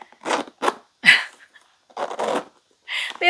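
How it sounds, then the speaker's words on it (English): Stiff zipper on a handbag being tugged in short, scratchy bursts, several rasping pulls separated by pauses, close and fairly loud with no talking. "These zippers. They are so stiff."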